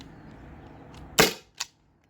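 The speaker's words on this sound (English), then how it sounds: "So here we go, Daisy cartridge, and shot number 1." Byrna SD launcher powered by a Daisy CO2 cartridge fires a single sharp, loud pneumatic crack, followed a moment later by a softer secondary click.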